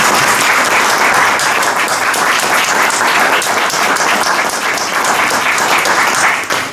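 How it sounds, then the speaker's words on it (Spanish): A loud, sustained round of applause for the presenters at a book launch, many hands clapping in a dense, even roar that carries on throughout and begins to fade at the very end. "Quiero para ellos, si son ustedes tan amables, un aplauso"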